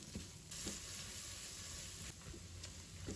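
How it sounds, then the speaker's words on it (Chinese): Doubanjiang, scallion, ginger and garlic stir-fry in a wok over low heat, making a faint, even sizzle with a few soft scraping stirs. "现在放入1勺豆瓣酱，再把葱姜蒜放入锅中，小火翻炒出香味来"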